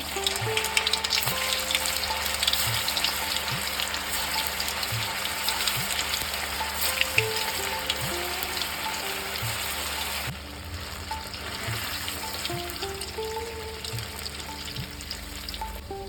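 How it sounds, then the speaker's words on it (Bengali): Chhana and soya koftas fry in very hot oil, giving a continuous, even sizzle and bubbling hiss that stays steady throughout with no voices. "এবার একটা একটা করে কোপ্তাগুলো দিয়ে দিচ্ছি।"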